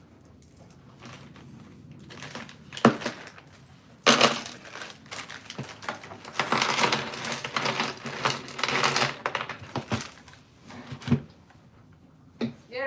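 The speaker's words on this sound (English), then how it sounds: "Gotta get my screws amongst all these nuts and bolts" Screws, nuts and bolts rummaged by hand in a pile of hardware, giving bursts of metallic clinking and jangling that swell and fade, with a dense stretch of rattling in the middle and quieter pauses between.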